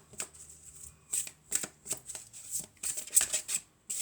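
A deck of oracle cards is shuffled by hand in repeated crisp riffling bursts, close and clear, with short pauses between each pass and no talking.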